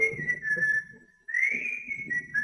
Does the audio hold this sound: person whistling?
yes